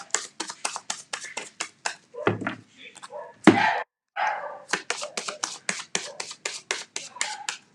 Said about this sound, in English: I rescue dogs, so you'll often hear every now and again they'll have a funny 5 minutes